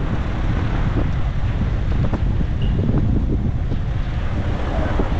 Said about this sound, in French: vent de sable.